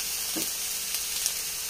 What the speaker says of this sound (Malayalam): സവാള ഒന്ന് നല്ല പോലെ നമുക്കൊന്ന് വഴറ്റിയെടുക്കാം